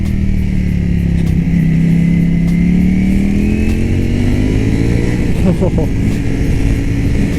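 A Ducati Panigale V4S motorcycle engine drones loudly and continuously while riding, its pitch sweeping down and then climbing as the rider accelerates, with a brief spoken exclamation over the roar.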